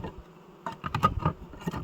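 Bees at an abandoned apiary with old hives make a steady, soft insect buzz that swells and fades, with a few faint clicks and knocks nearby.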